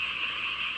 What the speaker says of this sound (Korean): 시골의 밤 개구리 울음소리 들으러 나왔는데요.